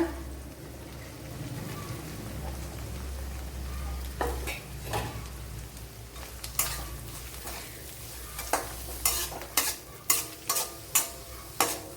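Small onions (shallots) go into a hot pan and fry with a soft steady sizzle, then a series of sharp rhythmic scraping and stirring knocks of a utensil against the pan.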